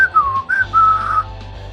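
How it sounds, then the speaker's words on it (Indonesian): Loud, shrill human whistling in several sliding phrases with short breaks between them, close and clear against a faint low hum, no voices. "Wiro bersiul nyaring."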